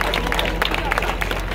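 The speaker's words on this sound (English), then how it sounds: "Y'all give this family a round of applause" An outdoor rally crowd at a Breonna Taylor anniversary gathering claps and cheers for a family in a brief, dense burst, with voices and crowd chatter mixed in.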